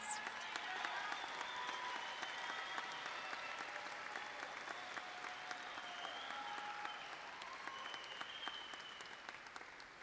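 A long ovation for fine arts students at a 2023 Jefferson High School graduation, crowd applause rolling steadily and evenly throughout, moderately distant in a large hall with a faint hum of voices beneath.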